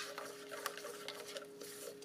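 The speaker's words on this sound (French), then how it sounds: "Voilà, je mélange bien." Egg mixture being stirred in a saucepan, with soft, quiet scraping and light clinks of a utensil against the pan in a steady irregular rhythm, no voices.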